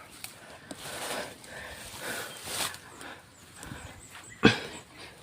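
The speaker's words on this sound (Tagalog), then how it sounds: "may mga asong tumatahol" Several dogs barking at a distance, scattered yelps and barks over rustling outdoor noise, with one sharper, louder bark near the end.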